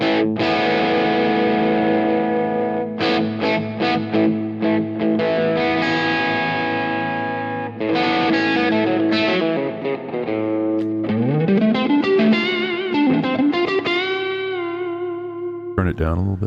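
Distorted electric guitar played through an AmpApps GigFast Mobile amp with reverb on, loud sustained chords and bent notes with a long ringing tail, close and alone.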